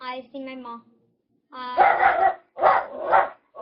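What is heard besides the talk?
dog barking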